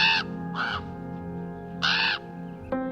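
A person imitates a bird call from atop a large rock, giving several loud, harsh crow-like caws in separate bursts over a steady low background hum.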